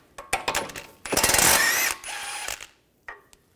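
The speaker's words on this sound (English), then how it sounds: "Use a 15 millimeter wrench and an 18 millimeter socket for the nut." Metallic clicks and a rapid ratcheting burst come from a wrench and socket loosening the lower ball joint nut on a 2013-2019 Ford Escape 2.0L, followed by a shorter ratchet run and a final clink.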